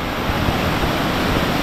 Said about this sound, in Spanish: ¡Mira toda el agua que cae!